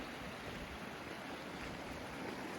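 A river running along a gravel riverbed on the Fimmvörðuháls trail in Iceland, a steady, even rush of water filling the background without pause.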